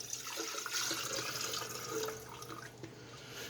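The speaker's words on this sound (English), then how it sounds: "I'm going to pour my water in here." Water poured from a container into a clear electric glass kettle, a steady trickling splash that runs continuously and close by for the whole few seconds, with no talking over it.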